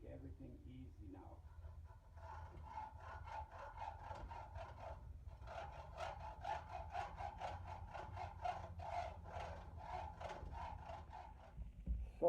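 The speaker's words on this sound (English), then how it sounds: "So a brand new hacksaw blade versus the Kato frame." A brand-new hacksaw blade saws through a Kato model train frame in quick, steady back-and-forth strokes, close and fairly soft, with a short pause before the rhythm resumes.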